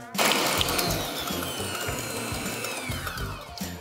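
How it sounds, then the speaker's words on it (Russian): A planetary stand mixer beats four eggs with sugar at steady high speed, a continuous whirring motor drone with faint rhythmic clatter, close and loud throughout. "У меня будет планетарный миксер."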